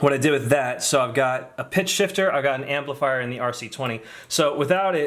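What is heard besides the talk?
No everyday noises stand out.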